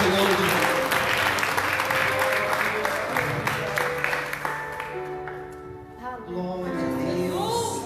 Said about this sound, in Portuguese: Se você acredita nisso, aplauda Jesus bem forte